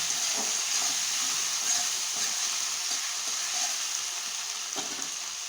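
Whole garlic cloves and garlic-ginger paste fry in hot oil in a pan, giving a steady, close sizzle and hiss with faint scraping and stirring, and no talking.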